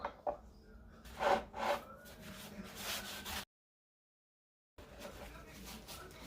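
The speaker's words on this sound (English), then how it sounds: "So now I'm going to just wipe off any excess that I might have here." A rag rubs excess stain off a thrifted wooden furniture piece, giving a few soft close scrubbing swipes with a brief silent gap midway.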